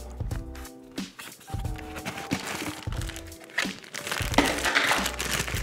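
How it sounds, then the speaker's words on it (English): A microphone shock mount being unwrapped from its plastic bag, with crinkling, rustling plastic, a few knocks and thumps, and low hum, close and fairly loud throughout. "Also wrapped in the plastic bag."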